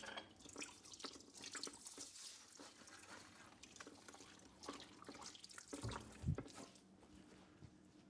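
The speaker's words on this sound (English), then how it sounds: "Let me wash my hands real quick." Hands washed under a running kitchen sink tap, a faint steady stream of water with irregular splashes and drips, quiet and close, with no talking.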